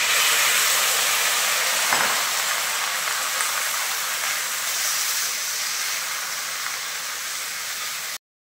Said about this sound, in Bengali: চিকেন আমাদের ঠিক এইভাবে ভাজা ভাজা হয়ে গিয়েছে